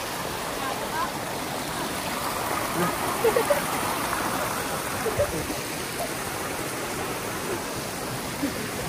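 Strong, steady rush of stream water close by, a continuous broadband flow with brief splashes and faint voices in the background.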